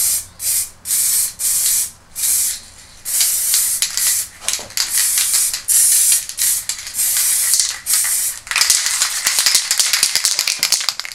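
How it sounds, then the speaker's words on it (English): Aerosol clear coat spraying onto a vintage Action Man toy in repeated bursts, each a loud broadband hiss lasting about a second with short gaps, then a longer continuous spray toward the end, close by. "just a quick spray with some clear coat has done a remarkable job"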